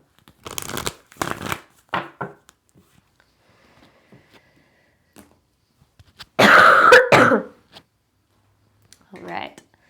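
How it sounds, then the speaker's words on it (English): Several separate sharp coughs burst out in the first couple of seconds, then a longer, harsher coughing fit follows a quiet pause, with a softer cough at the end; close, dry and loud against near silence. "I would do anything to get rid of this cough."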